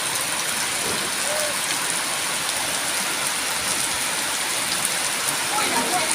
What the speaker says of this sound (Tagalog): Pusog ba tayong ulan?